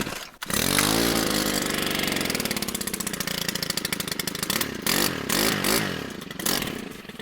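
A gas string trimmer engine that has sat unused for a while cranks, catches and runs: a loud, close, buzzy two-stroke rattle that revs up and down several times, with no talking.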